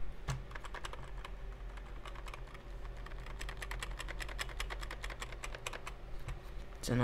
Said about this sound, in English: That nice sound of the keyboard.